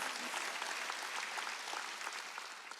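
Church congregation clapping together during a Sunday worship service, a steady, dense patter of many hands filling the room at an even level.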